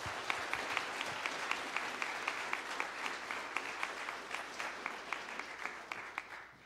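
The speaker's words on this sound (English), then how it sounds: "So let's give him a round of applause for his first work." Church congregation clapping, a broad crowd applause with a few sharper individual claps standing out, heard somewhat distantly and fading gently toward the end, no speech over it.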